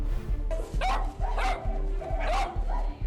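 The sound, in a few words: dog barking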